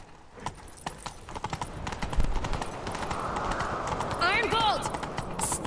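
Rapid hoofbeats of a horse in The Witcher video game on Xbox One pound in a galloping rhythm, growing louder, with a brief neigh and a voice speaking over them.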